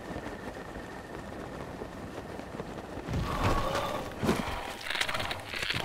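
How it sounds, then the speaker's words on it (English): Horses in The Legend of Zelda: Breath of the Wild, with a rush of hooves and a brief whinny rising out of a steady outdoor game ambience partway through, moderately loud, no talking. "There is a bunch of horses."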